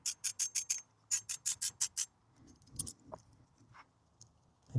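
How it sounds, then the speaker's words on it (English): A 10 mm spanner works a nut on a 2025 Honda CRF300L Rally motorcycle, giving two quick bursts of rapid ratcheting clicks, close and crisp, followed by softer scraping and tapping. "So again, we're going to be using a 10 mil"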